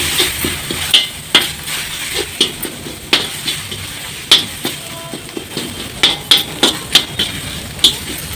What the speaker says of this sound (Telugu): ఇందులో నేను పచ్చడి వేసేస్తున్నాను